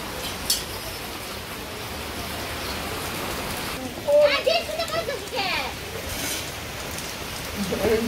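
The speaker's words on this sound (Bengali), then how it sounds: "বাবারে, ঝড় বৃষ্টি এরকম একটা অবস্থা, কি অবস্থা করছে" Storm rain pours steadily on a Bangladeshi village, a dense hiss throughout, with people talking nearby partway through.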